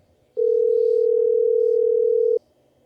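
A single telephone ringback tone sounds while a call waits for an answer, one steady clear tone lasting about two seconds and then stopping.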